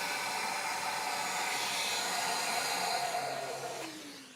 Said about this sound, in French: Je vais attendre que l'aspirateur s'éteint.